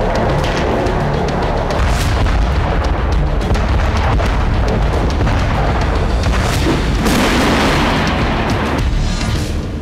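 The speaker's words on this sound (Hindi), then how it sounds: "यूक्रेन के हथियारों के गोदाम पर धमाके होने लगे।" Explosions at a weapons warehouse struck by long-range missiles, with dense, continuous booming blasts and sharp bursts rumbling loudly throughout, no talking.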